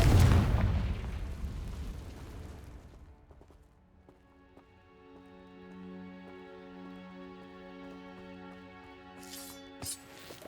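A Confringo blasting spell goes off in Hogwarts Legacy as a loud, booming explosion that decays over a few seconds into a sustained magical hum and tonal shimmer, ending with a couple of brief bright bursts.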